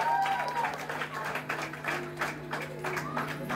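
An audience claps at a Sai Baba temple's second-anniversary function in a housing society, with a scattered burst of applause and a voice talking faintly underneath.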